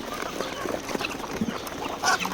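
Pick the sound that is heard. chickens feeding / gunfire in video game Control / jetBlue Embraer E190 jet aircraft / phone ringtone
chickens feeding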